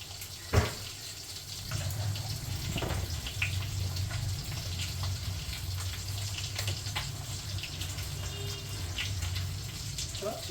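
Water runs steadily from a tap, a constant gushing stream close by, with a few clatters and faint talk in the background.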